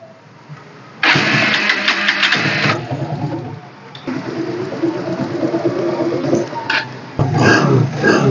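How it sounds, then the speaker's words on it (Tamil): A Yamaha FZ motorcycle engine cranks and fires up, then settles into a loud, close idle with a few throttle blips and a brief restart near the end, no talk. "வாங்க ஸ்டார்ட் பண்ணி காமிக்கிறேன்."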